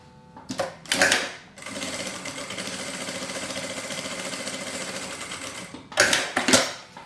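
Sewing machine stitching a seam on a fabric wipes holder, a steady close motor hum with rapid needle chatter lasting several seconds, framed by brief handling clatter at the start and end.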